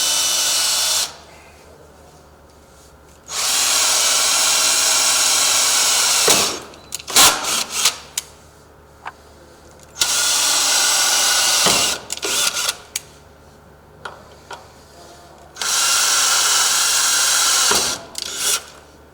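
A power drill whirs loudly in three long bursts, drilling holes in an entry door sill, separated by clunks, scrapes and handling noise between the runs.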